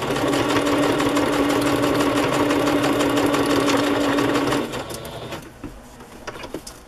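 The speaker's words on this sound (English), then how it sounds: "But I'm kind of stitching over that." A sewing machine stitching through paper ephemera runs loud and steady with a fast mechanical whir for several seconds, then stops, leaving faint handling clicks and rustles.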